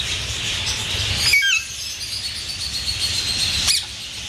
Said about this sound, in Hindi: ये देखिए दोस्तों, ये रिंग नेक का पेयर है